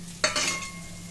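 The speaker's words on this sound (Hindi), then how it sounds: "अभी धनिया को हम फ्राई करेंगे" Coriander frying in a pan while sambhar powder is made: a short crackling sizzle flares up near the start and then settles into a softer hiss over a steady low hum.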